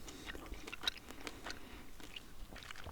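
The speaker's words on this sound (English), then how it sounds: "it does give a crunch when I first bite into it" Sugar-free chewing gum made in Italy being bitten and chewed close up, soft crunchy clicks and wet mastication sounds in a steady irregular rhythm, quiet and intimate.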